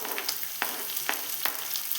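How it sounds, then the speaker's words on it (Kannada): Green chillies frying in hot tempering oil with mustard seeds, cumin and curry leaves, a soft steady sizzle with faint crackles and pops, quiet and close with no talking. "ಚಲೋ ಫ್ರೈ ಮಾಡ್ತೇನೆ ನಾನು."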